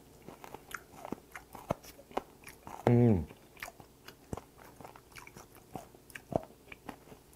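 Someone eats raw, unfermented skate dipped in wasabi, with soft crunchy bites and chewing sounds close to the microphone and one brief louder burst in the middle.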